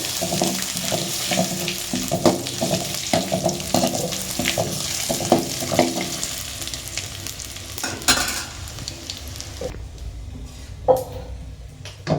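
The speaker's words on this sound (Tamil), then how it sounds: "எண்ணெய் சூடு ஏற்றுது காஞ்ச மிளகாய் நல்லா" Sizzling and crackling of dried chillies frying in hot oil for sambar, with stirring and clinking sounds, close up; the sizzle thins out toward the end.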